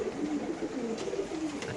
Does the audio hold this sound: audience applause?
no